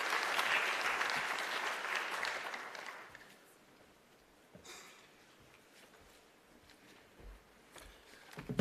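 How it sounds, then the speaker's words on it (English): Loud audience applause fills the first three seconds, then fades to scattered claps and low room murmur with a few faint noises. "Let's give Lennon Munyai a round of applause as they're coming on stage."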